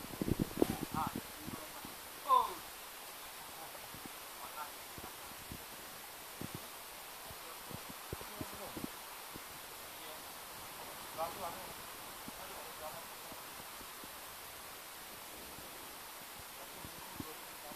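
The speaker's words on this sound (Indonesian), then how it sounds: "Angin begitu kuat." Strong wind blows outdoors at a kite-flying outing, a steady broad rushing hiss with faint rustling and scattered small knocks, fairly quiet and continuous throughout.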